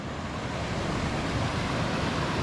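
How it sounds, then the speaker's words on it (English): Upper Hastings River Falls pouring into the Hastings River Gorge, a steady loud broadband roar of falling water heard up close, continuous and unbroken with no voices. "Upper Hastings River Falls."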